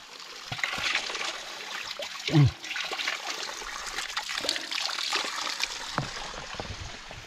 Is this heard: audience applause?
no